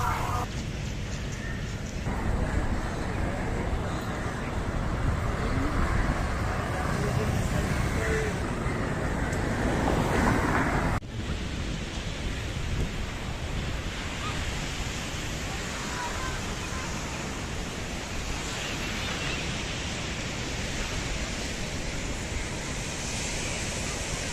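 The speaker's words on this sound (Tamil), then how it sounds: "இதுதான் கொழும்பில் இருக்கிற முக்கிய கடற்கரை கடற்கரையும் சரி கடல் நீரும் சரி எவ்வளோ சுத்தமாக இருக்குது பார்த்தீங்களா" Ocean waves at the main beach in Colombo, Sri Lanka, wash in as a continuous broad roar, mixed with wind and a distant traffic-like rumble.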